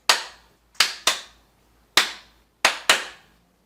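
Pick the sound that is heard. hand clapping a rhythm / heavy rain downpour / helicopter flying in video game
hand clapping a rhythm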